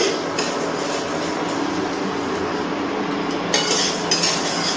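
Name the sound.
dry-roasting moong dal in a pan on low-medium flame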